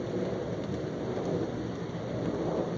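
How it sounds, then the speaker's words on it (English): Steady rain falls outdoors while someone walks through it, a dense, even hiss of drops close around the listener, with a faint low rumble beneath and no voices. "I always love the sound of rain."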